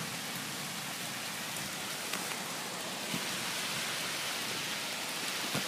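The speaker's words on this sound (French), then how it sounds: "Les gens, il pleut des grêlons" Steady, dense patter of hailstones drumming on surfaces during a strong thunderstorm in Amboise, France, a continuous broadband hiss with occasional sharper impacts standing out.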